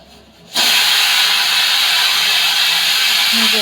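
A pressure cooker abruptly releases a loud, steady hiss of steam, starting sharply after a brief quiet moment and holding at full strength close by.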